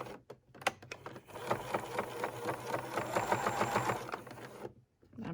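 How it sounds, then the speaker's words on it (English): A sewing machine stitches an N95 mask cover, starting with a few hesitant clicks, then running in a steady, close, rhythmic whirring chatter for about three seconds before stopping, with brief handling noises around it. "I'm having to pull it a little bit through my machine to get it to"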